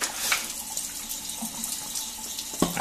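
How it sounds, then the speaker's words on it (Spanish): A tap runs water through a Kinetico 206C water softener, a close, full gushing stream with splashing into a sink and a brief surge near the end, with no talking. "Está pasando el agua por el descalcificador."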